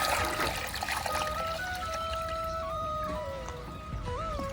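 Water pours steadily into a pigeon enclosure's water container, a continuous trickling stream with a rising gurgling tone as it fills, close and alone.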